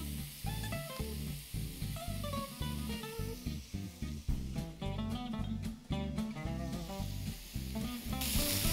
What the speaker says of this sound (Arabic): دابا كنبقاو نحركو مزيان حتى كطيح شوية البصلة والفلفلة